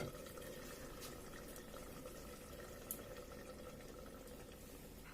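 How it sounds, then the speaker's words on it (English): Egg masala curry simmers in a covered pan, a soft, continuous bubbling hiss with faint pops, low and steady with no voices. "So you can see the curry is bubbling and it's looking yummy too."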